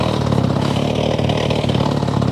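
A rock-drilling machine engine runs at a roadbuilding site in the highlands, a loud, steady mid-pitched mechanical drone with a fast pulsing rattle, close and continuous with no talk.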